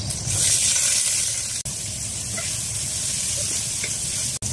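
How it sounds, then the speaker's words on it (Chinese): Potatoes stir-fried in a wok with oil and chopped scallions for a Gansu farmhouse sour-cabbage noodle dish sizzle in a steady hiss, with scraping stirs and a couple of brief gaps, close up. "把土豆咱们炒一下"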